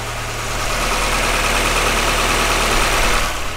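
A 1999 Honda Civic engine idling steadily with a low, even rumble and broadband mechanical hum, close and continuous with no talking.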